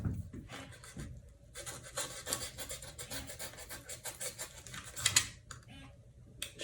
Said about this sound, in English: Shave what you can, sand the rest.